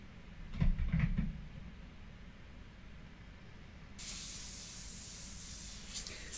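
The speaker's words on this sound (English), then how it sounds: "you definitely want to do those initial sprays after you refill the airbrush off of the work" Airbrush loaded with India ink sprays after a refill, a steady soft hiss starting partway through and continuing evenly, with a few brief thumps and clatters beforehand.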